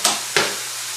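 Chopped onion drops into a hot pan with two sharp sizzling bursts, then settles into a quieter steady crackle, close and alone.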